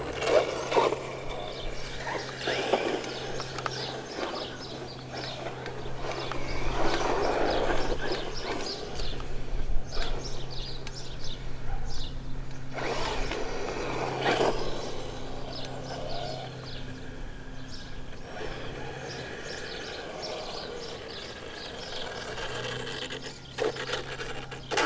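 A Traxxas Hoss RC truck drives around on its first outing, its electric motor giving a steady raspy whine that rises and falls with throttle, along with gritty rolling and scuffing noise. No one speaks.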